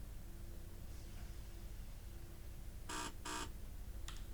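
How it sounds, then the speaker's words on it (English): A Class 158 cab buzzer in Train Sim Classic sounds in two short, loud electronic bursts, then a briefer third one, over a low steady rumble of cab noise. "I'm gonna put my game volume up because I can barely hear the buzzer."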